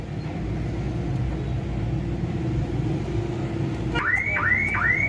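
Car alarm on a car fitted with an aftermarket alarm and central locking system starts wailing after a steady engine-like rumble, its rising, looping siren tone repeating close by and loud.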